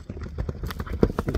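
A horse for sale at a market clip-clops as it is led and turned back and forth, its hoofbeats sharp and close in a quick, uneven rhythm, with faint voices in the background.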